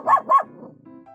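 A dog barks twice outdoors in snowy Canadian winter, two quick, sharp barks close by followed by a softer trailing whine, with no talking.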